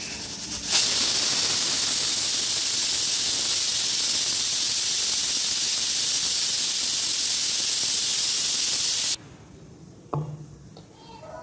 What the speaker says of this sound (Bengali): তো চলো এবার এঁচড়টাকে আমি সিটি দিয়ে দিচ্ছি